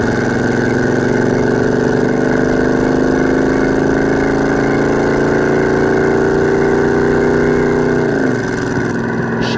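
A stock 350 V8 in a 1972 Chevrolet Monte Carlo pulls hard and steady from inside the car, its loud, even drone climbing in pitch until a gear change near the end briefly drops the note.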